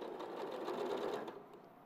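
A domestic sewing machine runs in a short, steady burst of motor whir and needle clatter, close and moderately loud, easing off near the end.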